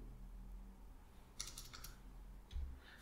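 Keys tapped on a computer keyboard in two short quick bursts over a low steady hum, close and fairly quiet.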